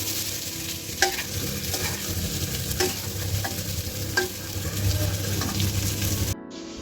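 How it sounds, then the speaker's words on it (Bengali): Cauliflower and potato pieces fry with turmeric and salt in a pan, a steady close sizzle broken by sharp clinks of a utensil stirring every second or so. "এখানে একটুখানি হলুদ আর নুন দিয়ে ফুলকপি আর আলুটা একটু ভাজছি।"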